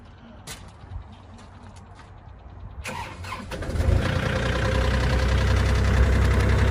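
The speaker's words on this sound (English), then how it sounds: "That's a cold start." A 2020 Kubota KX040-4 excavator engine cranks and catches on a cold start, then settles into a loud, steady idle close by after a few quieter clicks and knocks.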